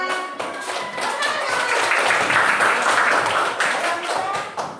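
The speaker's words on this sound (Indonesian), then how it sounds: "Ayo, tepuk tangan untuk Mirza" Schoolchildren in a classroom clap for a classmate named Mirza, a brief scattered round of applause that swells and then thins, with a voice heard over it.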